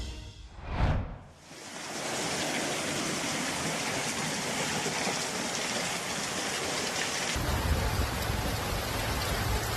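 Dense, steady heavy rain roars continuously with a constant broad hiss after a brief muffled rustle at the start.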